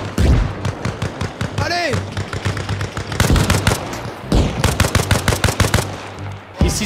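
Rapid automatic gunfire and shots from a video game battle, loud and dense with bursts and single cracks throughout, mixed with shouted voices and a brief whistling projectile sound.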